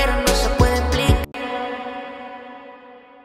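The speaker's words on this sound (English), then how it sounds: "So it's a very long reverb with a very slow attack time. It's the concert wave preset from the Bricasti" A sung phrase from a reggaeton track cuts off abruptly, leaving a long, slow-blooming reverb tail from a Bricasti Concert Wave preset that rings and fades smoothly over about two seconds.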